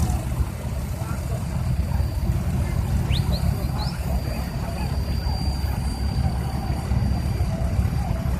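A 1969 Ford 4000 tractor runs at a steam rally tractor parade in Sheffield, its engine a steady low rumble throughout, with a voice talking over it.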